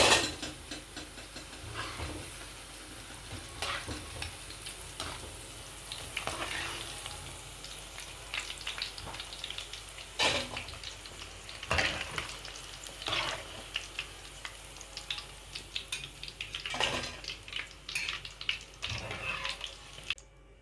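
Pakodi fritters deep-frying in hot oil, a steady soft bubbling sizzle with occasional louder crackles and stirring scrapes, heard close and alone at low level throughout.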